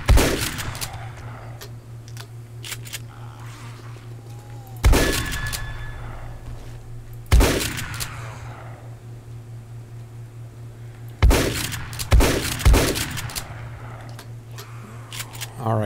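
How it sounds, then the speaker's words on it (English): Shotgun blasts in a shooter game, several loud, sharp booms spaced a few seconds apart, two fired in quick succession near the end, over a low steady hum with some quiet talk. "I gotta go back to the shotgun"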